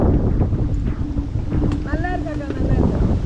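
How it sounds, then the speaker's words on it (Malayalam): Strong wind buffets the microphone with a constant roaring rush, and faint tonal sounds drift through in the background. "ഒരു രക്ഷയില്ലാത്ത കാറ്റാണ്"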